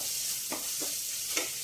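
Ginger and garlic fry in a pan for a potato curry, giving a steady bright sizzle with a few soft stirring scrapes. No one talks.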